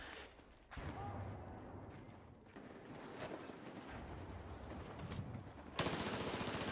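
An MP7 submachine gun in Battlefield 4 fires in sustained rapid bursts against a busy battlefield background, with a louder, sharper burst near the end.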